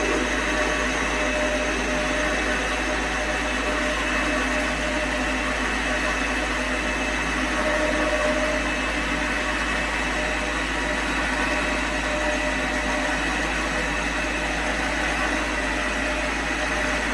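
A Chinese-made lathe upgraded to stage II cuts a test pass, a steady motor drone with a low hum and whirring tool noise, continuous and close, with faint talk mixed in.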